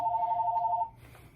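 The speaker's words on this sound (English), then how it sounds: "Interrupted by the phone." A telephone rings once with a short, bright electronic tone that stops after under a second. Quiet room ambience follows.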